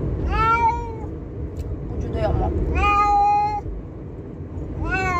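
Three drawn-out cat meows spaced across the clip, close and clear, with a person speaking briefly in between over a low background rumble.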